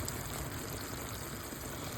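A candied yam glaze of butter and spices bubbles in a pan with a soft, continuous crackling fizz, quiet and steady throughout.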